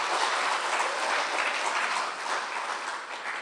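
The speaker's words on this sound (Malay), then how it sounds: "Berikan tepukan Setiausaha Agung" An audience in a hall at a Malaysian by-election campaign rally applauds the Secretary General, dense, even clapping that holds at a strong level throughout without a break.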